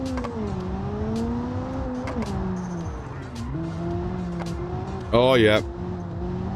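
An engine drones in BeamNG.drive, its tone rising and falling as the car is driven, until a short, sharp tire squeal cuts in near the end. A voice speaks briefly over it.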